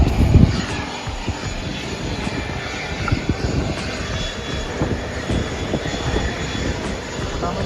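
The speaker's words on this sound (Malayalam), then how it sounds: "വിമാനം കാണിച്ചറേ" An airplane passes overhead with a sustained, fairly loud engine drone that stays steady throughout, with a brief voice near the start.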